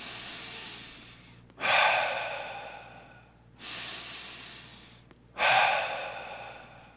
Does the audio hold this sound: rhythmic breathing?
yes